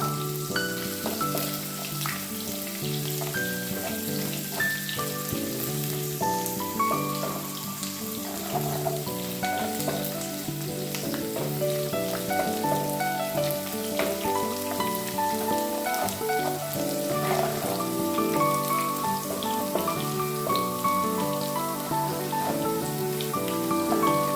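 Garlic and finely chopped ginger fry in a pan for homemade kanthari chilli pickle. A steady, even sizzle crackles throughout, close and moderately quiet, with no one speaking.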